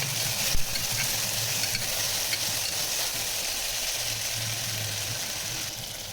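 Tomatoes frying in a pan for vegetable pulav, a steady, even sizzle that holds throughout with a faint low hum beneath it and no talking.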